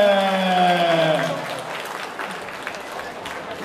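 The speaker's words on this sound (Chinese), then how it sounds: "那我们再次以热情的掌声" At a cosplay competition, an audience applauds a judge while a sustained musical tone fades out beneath it, leaving a soft, steady patter of clapping.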